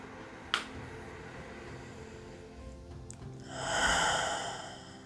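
A single deep breath drawn in and let out slowly near the microphone, rising into a soft, breathy swell after a brief click, in an otherwise quiet guided meditation.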